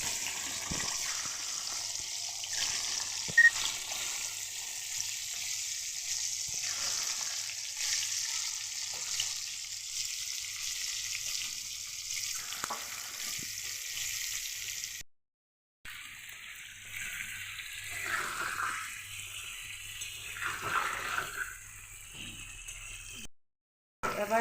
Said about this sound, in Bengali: এবার ডিমগুলো অল্প লাল লাল করে ভেজে তুলে নিব